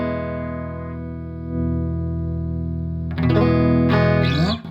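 Electric guitar played through an effects unit with tone and volume dialed back, a long sustained chord ringing steadily before a second chord is struck and more picked notes ring out, loud and alone.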